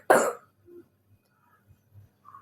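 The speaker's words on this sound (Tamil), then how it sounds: "இருமல் கைஸ்." One sharp, close cough, followed by faint shuffling and near silence.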